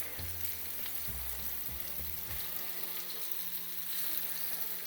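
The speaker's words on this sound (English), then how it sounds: "again and fry the other side again" Chicken mince cutlets sizzle in a frying pan with a steady, dense hiss that runs throughout, with a few soft low knocks near the start as they are handled.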